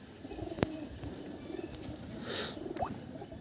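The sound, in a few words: pigeons cooing in a loft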